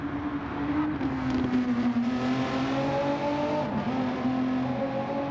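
A Renault race car engine in a racing video game, sustained and droning at a high pitch that slowly slides down and back up as the car holds speed, steady and fairly loud with no voices.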